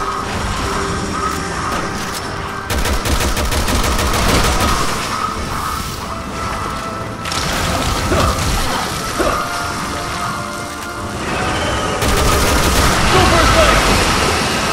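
Rapid gunfire and crashing impacts from Resident Evil 6 play loudly and almost without a break in repeated bursts, with a player's voice talking over the action.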